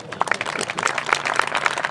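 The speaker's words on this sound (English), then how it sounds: "Give her a big round of applause." An audience at a National Day of Prayer event applauds a man's wife, with dense, steady clapping and a few sharp individual claps standing out over about two seconds.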